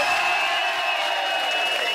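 A television studio audience cheers and whoops for a game show's host, a dense, continuous wall of crowd noise at steady loudness throughout.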